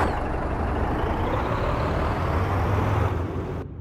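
A truck engine in American Truck Simulator roars at full throttle, a dense, steady, loud drone that holds evenly before cutting off abruptly at the end.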